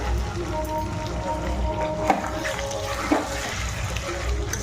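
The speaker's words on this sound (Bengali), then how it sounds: "এই জল আর তেলটা বেরিয়েছে এটাতে আমি কষা কষা করে ভেজে নেবো" Chicken skin frying in oil in a home kitchen, giving a steady close sizzle with a couple of sharper pops partway through.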